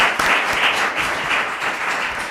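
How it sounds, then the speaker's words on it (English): An audience at a local election candidates night applauds the candidates, a dense, steady wash of many hands clapping throughout, fairly loud and close with no speech over it. "if you want to applaud now"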